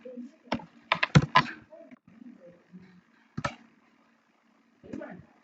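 Someone enters a value on a computer keyboard while writing a C# program, a few quick close key clicks in a short cluster followed by a couple of isolated presses, with a voice talking between them.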